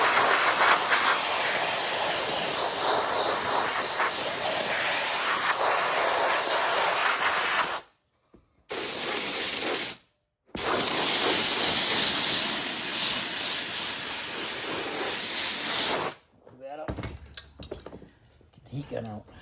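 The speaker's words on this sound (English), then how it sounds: "Heat gun out, because I'm impatient." A heat gun blows hot air onto a damaged armrest during a repair, making a loud, steady rushing hiss that cuts out briefly twice, then stops and leaves quiet room noise.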